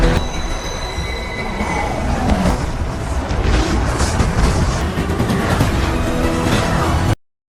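Loud, close train rushing past with steady roaring rumble and high metallic wheel squeal, sustained for several seconds before cutting off abruptly.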